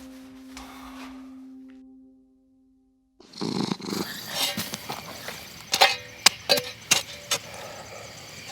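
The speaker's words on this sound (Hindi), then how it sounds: "वो एक मामूली बिल्ली ही थी।" A cat purrs softly and steadily for about two seconds, then silence falls and is followed by clattering, thumping bursts and sharp clicks of activity.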